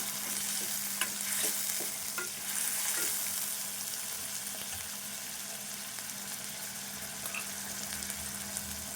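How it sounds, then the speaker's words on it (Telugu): Ginger and onion paste frying in a pan for a spiced curry, a steady close sizzle with occasional stirring scrapes and small pops throughout. "ఉల్లిపాయ పేస్టు ఇది కూడా వేయించుకుందాము పచ్చివాసన పోయేదాకా ఇవన్నీ ఈ ఉల్లిపాయ ఇట్లా వేగేదాకా వేయించుకుందాము"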